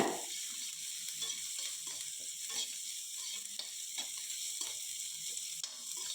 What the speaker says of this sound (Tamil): வெங்காயம் பச்சை மிளகாயை லேசாக வதக்கிக்கலாம்.